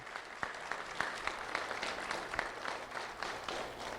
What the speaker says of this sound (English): So a round of applause for all these people helping behind the scenes today.